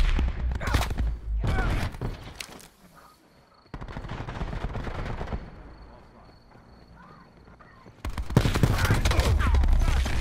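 Bursts of video game gunfire from a Stingray match crackle in loud volleys, first in short clusters, then a quieter lull with a faint tone, before a heavy sustained barrage returns at the end.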